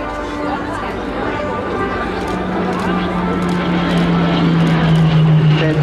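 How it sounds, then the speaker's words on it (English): A Hawker Hurricane fighter flying low and fast at an airshow, its engine a sustained rising drone that grows louder as it nears, under an announcer's voice and crowd chatter. "Low and fast, Clive Denny in the fabulous Hurricane"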